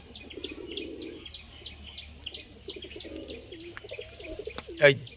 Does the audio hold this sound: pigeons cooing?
yes